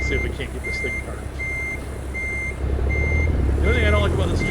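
A heavy truck in American Truck Simulator backs into a parking spot, its reversing alarm sounding a steady series of evenly spaced electronic beeps over a low engine rumble that swells near the end.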